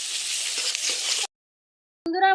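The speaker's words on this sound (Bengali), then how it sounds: "এখন সমস্ত মশলাগুলো আমি ভালো করে ভেজে নেব।" Spices frying in a pan with slit green chillies and salt make a steady close sizzling hiss for about a second, then break off into silence and a brief tonal sound.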